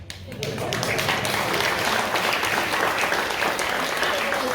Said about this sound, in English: Another applause for the 7 performers.